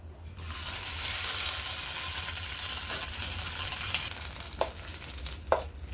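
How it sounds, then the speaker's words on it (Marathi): Loud, steady crackling sizzle of mustard seeds and curry leaves frying in hot oil, close up, with a couple of soft clinks near the end. "फोडणी आपण वतून घेऊयात."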